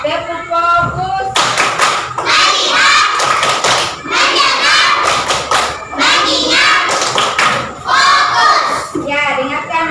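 Schoolchildren in a classroom clap out a quick focus-clap pattern in repeated bursts, their claps and thumps mixed with loud group chanting and shouting.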